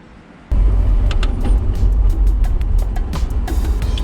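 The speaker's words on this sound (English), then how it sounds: "just coming back from mechanics in my stripped out race car, so sorry if it's a little loud" A loud stripped-out Datsun 280ZX race car fires into a heavy, rumbling drive after a brief quiet start, deep engine drone filling the cabin with clicks and rattles on top.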